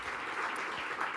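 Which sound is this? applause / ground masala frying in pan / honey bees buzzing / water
applause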